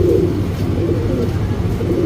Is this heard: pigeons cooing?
yes